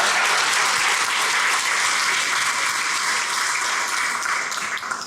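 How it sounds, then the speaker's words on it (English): A crowd at the Florence State of the Town 2019 event applauds Michelle Cortez with dense, steady clapping that fills the whole stretch and fades slightly at the end. "Everyone, let's give her a single round of applause"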